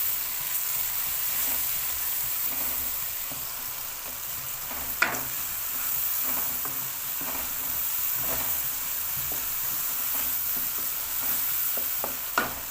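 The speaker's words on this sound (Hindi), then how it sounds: "मैं गोभी मिक्स करूँगा इसमें।" Spices fry in a pan before cabbage is added for band gobhi salan, a constant sizzling hiss broken by repeated light scrapes and clinks of a spoon stirring, no talk.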